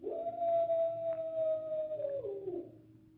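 Wild dogs howl in a dramatized scene outside ancient city walls, a single long sustained howl holding a steady pitch for nearly three seconds before sliding down and trailing off.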